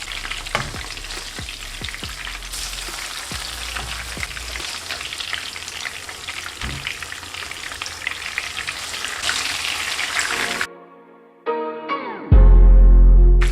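Chapli kebabs frying in hot oil, a loud, dense, continuous sizzle and crackle up close for about ten seconds before it cuts off into a short different sound.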